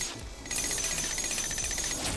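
Continuous grinding, rattling drill noise from mining ore in the modded video game Terraria, steady and fairly loud over a thin high tone, with no voices.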